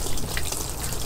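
Water gushing steadily into a backyard wooden fish pond, a dense, continuous splashing rush that stays loud and unbroken throughout.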